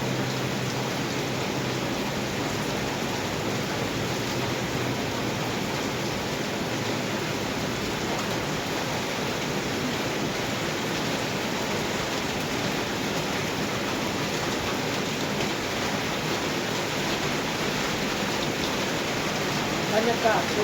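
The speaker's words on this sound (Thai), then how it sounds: "บรรยากาศฝนตกเนาะ" Rain falling steadily, a dense, even hiss that stays constant and fairly loud for the whole stretch with no letup.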